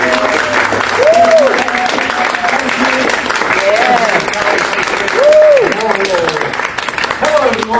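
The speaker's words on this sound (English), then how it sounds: "let's give a round of applause for our guest of the night" An audience applauds a guest speaker at a health talk, steady dense clapping throughout with a voice speaking over the applause.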